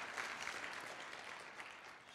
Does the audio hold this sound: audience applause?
yes